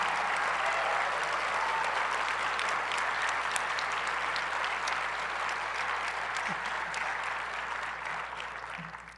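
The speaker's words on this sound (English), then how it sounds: "Let's give a huge round of applause to Nan, all of our ambassadors, and all of our Reno Works graduates." Sustained applause from a large audience at a 2019 State of the City address, steady dense clapping with light crowd murmur for the whole stretch, slowly tapering toward the end.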